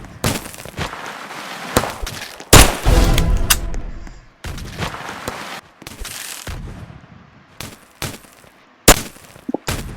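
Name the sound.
gunfire in video game Pistol Arena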